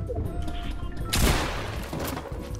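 Gunfire in a Fortnite match: a loud burst of shots peaks near the middle, then trails off over steady game noise, with a faint voice underneath.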